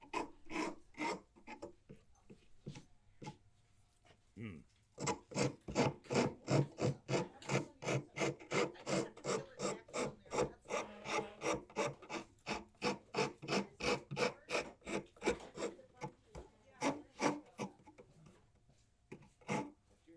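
A rasp filing a hand-carved wooden spoon: a long run of rhythmic back-and-forth rasping strokes, about two per second, close and fairly quiet, with a brief pause before the steady strokes resume.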